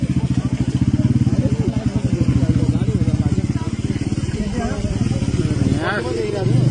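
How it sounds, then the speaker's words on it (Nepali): A scooter passes on a road near the Nuwakot–Kathmandu border, its engine a rapid, rhythmic putter that stays fairly close and loud throughout, while people talk over it. "स्कुटर हो"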